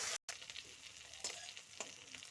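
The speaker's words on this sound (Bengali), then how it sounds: "মাছের মাথাগুলো লালচে করে ভেজে নেব উল্টে পাল্টে।" Katla fish heads fry in hot oil in a kadai, a faint, steady sizzle broken by a brief dropout and a few sharp spattering pops.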